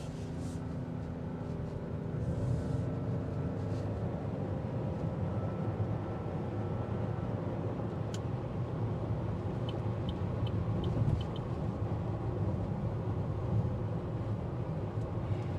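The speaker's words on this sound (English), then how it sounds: "The air noise does filter in, you get a bit of a drone engine, but you keep up with the traffic." Steady engine drone and wind/air noise inside a 2023 Buick Encore GX while driving in traffic, a constant broadband rumble with no talk.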